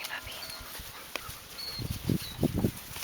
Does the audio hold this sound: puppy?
yes